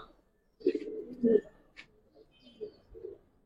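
Old-breed Giribaz pigeons coo in a loft in a few low, throaty bursts separated by quiet gaps, fairly near and moderately soft.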